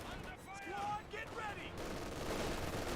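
Rifle fire from a Company of Heroes 2 battle, with unupgraded US riflemen shooting at a German Grenadier squad, crackling as a steady dense volley of mid-distance shots, with voices chirping briefly in the first half.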